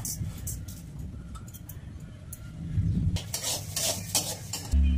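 Moong dal being dry-fried in a wok over a gas flame, with a continuous rustling sizzle and metal spatula scrapes and clinks against the pan, ending on a louder clatter.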